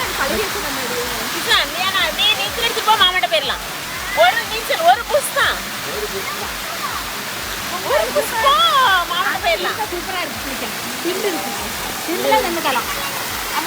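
Steady roar of Kuthrapaanjan Waterfall rushing nearby, with people talking and calling out over the rushing water.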